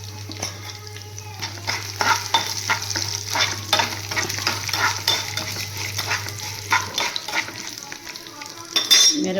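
Dried red chillies sizzle in hot oil with chana dal for a tempering, a steady frying crackle with stirring scrapes throughout and a low hum for most of the clip.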